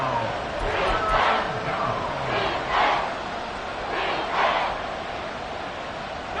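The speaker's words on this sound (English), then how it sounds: "The Arrowhead crowd in full roar." Football stadium crowd at Arrowhead roaring in a steady broad wash, swelling in several waves across the stretch with no clear voice standing out.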